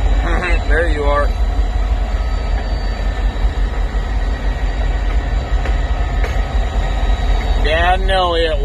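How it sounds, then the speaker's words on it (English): A long freight train rolls past in a steady, continuous rumble and clatter heard from nearby, with people talking briefly at the start and again at the end. "Dad and Elliott watching the long train"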